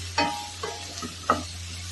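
Raw banana curry is sautéed and stirred in a pan, with four short scraping strokes over a faint, steady background hum.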